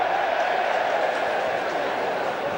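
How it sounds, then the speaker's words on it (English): Rugby league crowd at a St Helens v Wigan match, a broad sustained roar of cheering from a large stadium audience, steady and fairly loud throughout. "crowd cheered Saints for finding touch"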